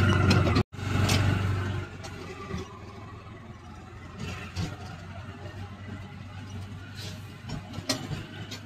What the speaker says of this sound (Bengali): আমি আর অভিক এখন রয়েছি অটোতে